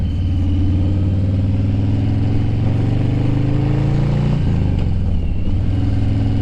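Harley-Davidson Softail Street Bob V-twin engine idles close and loud in a steady lumpy rumble, with a brief blip of throttle near the end before settling back to idle.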